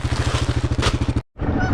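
Rapid, rhythmic honking from mother geese guarding goslings from dogs on a farm, a steady run of repeated calls that stops abruptly, then resumes with a rougher, noisier stretch.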